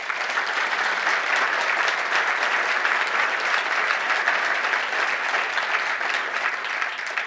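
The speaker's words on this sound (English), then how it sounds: "if you'd give them a round of applause." An audience at the Retail Week Live 2015 conference claps for a panel discussion, producing steady, full, even applause that holds at one level throughout with no talking.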